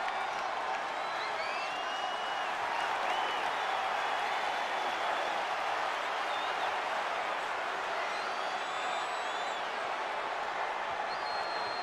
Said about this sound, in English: Listen to this crowd, guys. They're fired up for this one.